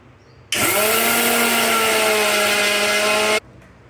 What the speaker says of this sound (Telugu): రాగి బ్రౌన్ రైస్ని మనం కొంచెం బరకగా గ్రైండ్ చేసుకోవాలి